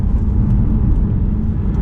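Aston Martin DBS engine revving on a downshift, a deep continuous rumble heard from inside the car, steady and loud throughout with no voices over it.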